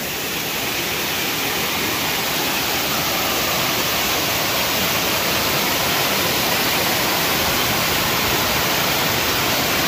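Cachoeira do Roncador waterfall roaring steadily, a loud, dense, unbroken rush of falling water filling the whole stretch with no voices.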